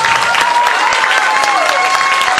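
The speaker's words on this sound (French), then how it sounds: "On l'applaudit bien fort, s'il vous plaît." An audience at a cosplay contest during a convention claps loudly and steadily, many hands making a dense, sustained wash of applause.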